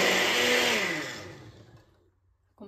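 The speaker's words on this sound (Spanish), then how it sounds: "Vamos a licuar" A kitchen blender whirs loudly as it purées red sauce ingredients for beef trotters, then winds down and fades to near silence, with a short clunk at the end.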